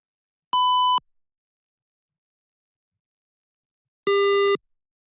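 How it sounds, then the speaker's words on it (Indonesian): A buzzer on an IoT water level circuit sounds two separate steady electronic beeps, each about half a second long, with the second lower and louder, separated by a few seconds of silence. "maka lampu kuning yang menyala dan buzzer akan berbunyi"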